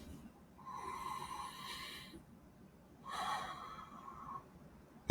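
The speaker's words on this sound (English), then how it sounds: "And take a breath." Two slow, deep breaths taken during a guided meditation, each a soft airy inhale-exhale lasting over a second, close and quiet with a calm pause between them.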